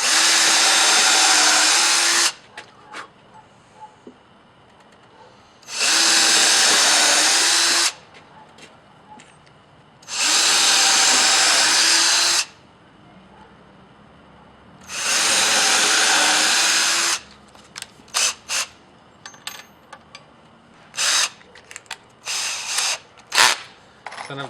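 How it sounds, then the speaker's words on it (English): A power drill fitted with a 1/8 inch bit bores pilot holes in a wooden board for a bench, whirring loudly in four sustained bursts of about two seconds each, followed by a string of short, choppy trigger pulses. "I'm using a 1/8 inch drill bit here. I'm going to drill some pilot holes."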